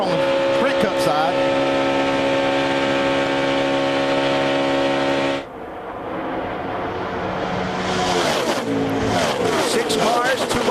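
NASCAR Nationwide Series race cars roar around Daytona in a tight pack, a loud sustained engine howl that cuts off sharply midway and returns as a rising, shifting pack of engines, with commentary talk over it.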